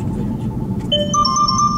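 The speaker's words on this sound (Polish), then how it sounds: "Co to kurde, to jest mój telefon." A mobile phone rings with a bright electronic melody of repeated high tones over low engine rumble inside a car during a test drive, starting partway through and fairly loud.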